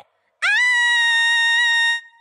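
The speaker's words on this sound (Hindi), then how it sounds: "मैं भूल गई थी कि इसे चीखना भी आता है" A creature in an animated Miraculous movie trailer lets out a single loud, sustained, tonal scream that starts abruptly and holds steady for well over a second before cutting off.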